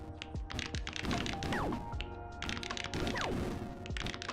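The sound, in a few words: clicky button sounds in the video game PixelArt Academy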